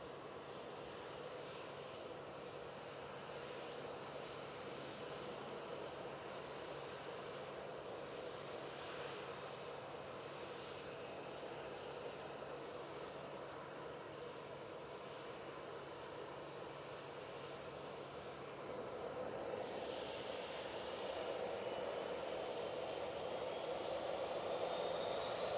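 Qatar Airways airliner pushing back at Manchester Airport, a steady, distant whine and rumble of jet engines that swells louder and brighter near the end, with no voices over it.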